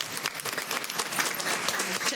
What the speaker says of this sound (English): If we can just give our teaching and learning team another round of applause for their great work.